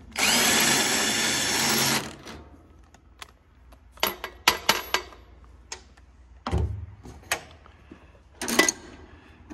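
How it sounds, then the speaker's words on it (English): A power tool spins double jam nuts off a Gleaner R72 combine, beginning with a loud two-second whirring burst, then a string of sharp metallic clicks and knocks close by. "just take and spin them double jam nuts up out of there"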